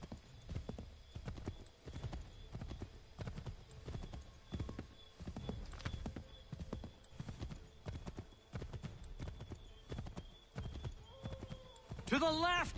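Horse hooves gallop in a quick, steady clip-clop rhythm through Assassin's Creed 3 gameplay, close and continuous, with a horse whinnying loudly near the end.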